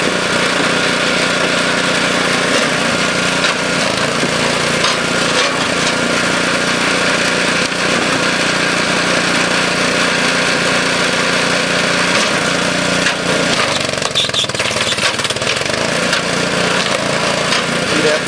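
A gas engine on a fast hydraulic wood splitter runs loud and steady throughout, a constant mechanical drone with a brief dip and shift in tone near the end.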